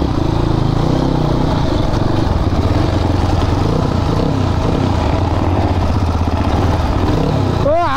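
A dirt bike engine runs steadily up close on a village track, a continuous rough, buzzing drone that fills the whole stretch with a brief mechanical whine near the end.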